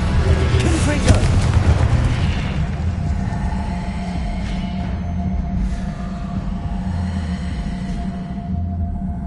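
A Confringo explosive spell goes off in Hogwarts Legacy with a loud burst near the start, then rumbling booms and crackles that fade out under steady game ambience.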